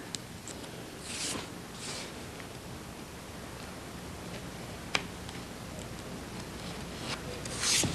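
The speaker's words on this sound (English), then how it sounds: "And we trim the edges." A blade trims the edges of MonoKote covering film in quiet, close rubbing and scraping strokes with a few soft ticks. The sound is faint and sparse, with no talk.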